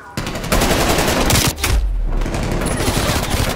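Rapid gunfire from a shooter video game during a competitive scrim rattles out in loud, close bursts, pausing briefly around the middle before the shooting resumes and continues steadily to the end.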